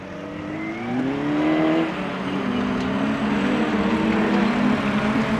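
Autograss racing cars roar around a dirt track, engines revving loudly and continuously as several cars pass close by, with no voices over the noise.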